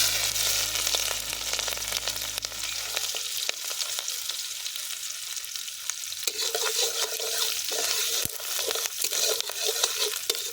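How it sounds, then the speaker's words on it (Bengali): Whole cumin and garlic dropped into hot oil sizzle loudly and continuously, with scattered stirring clicks; a low hum fades out during the first few seconds. "তেল গরম হয়ে গেছে ফোড়নে দেবো গোটা জিরে"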